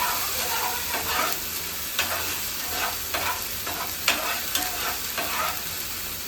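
Onion fries in a pan with ginger-garlic paste for a village-style chicken kharda, sizzling steadily up close while a spatula scrapes and stirs in repeated clicking strokes.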